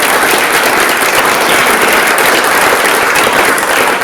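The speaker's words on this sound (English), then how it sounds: "a special round of applause needs to go to Karen Curry who put that together" Loud, dense applause from an audience at the NDFA Awards 2025 ceremony, a steady wash of many hands clapping close and unbroken throughout.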